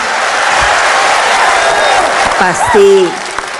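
A crowd at a political speech event claps and cheers loudly in a dense wash of noise, with a voice breaking in over the applause near the end.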